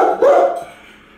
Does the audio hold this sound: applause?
no